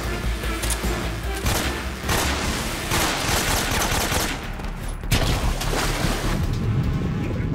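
AK rifle fire in the stealth game Metal Gear Solid 3 rings out as several loud bursts and single shots, some spaced by short pauses, over a steady outdoor ambience.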